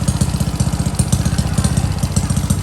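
A customer's racing motorcycle engine runs during a run-in on the bench, a loud close idle with a fast, even pulsing beat throughout.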